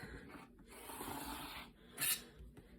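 A blade cuts through quilt block fabric on a cutting mat, making quiet, close rasping strokes. Two longer drags are separated by brief pauses, and a short sharper scrape follows.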